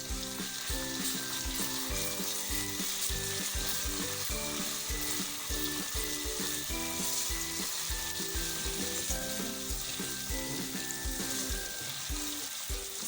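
Crushed ginger, garlic and green chillies sizzle and fry in hot oil while making kadhi pakora. A steady, dense crackle with frequent stirring scrapes, close and continuous, and no talking.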